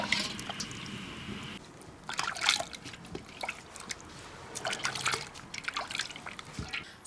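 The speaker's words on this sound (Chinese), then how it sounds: "捞到凉水盆子里再洗一下。" Boiled beef tongue being washed by hand in a basin of cold water gives close, intermittent splashes, trickles and drips with sloshing pauses in between.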